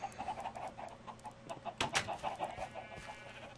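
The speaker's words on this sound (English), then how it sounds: "Oh, by the way, this is a chicken coop." Chickens in a coop in the game Minecraft cluck in a quick, repeated run of short calls, close and steady, with no talk.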